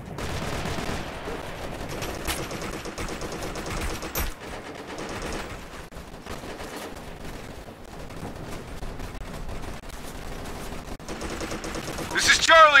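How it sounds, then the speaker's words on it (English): Enemy gunfire in Operation Flashpoint: Red River, scattered rifle shots and bursts crackling at a distance throughout, with soldiers' voices and radio chatter over them and a louder volley near the end. "This is Alpha Team, we're getting shot at!"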